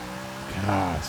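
A NASCAR stock car lapping a track in Forza Motorsport 6, its engine droning steadily and then rising in pitch as it accelerates, loud and close, with someone talking over it.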